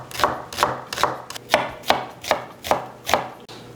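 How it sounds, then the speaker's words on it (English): Knife slicing onions on a cutting board, a steady run of about nine crisp chops, close and clear, with no talk. "start slicing some onions"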